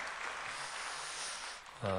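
A church congregation claps in welcome, a soft continuous patter under a speaking voice, thinning near the end as the speaker's voice comes forward.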